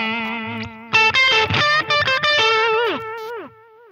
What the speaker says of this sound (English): so that the delays have that digital distortion at a lower level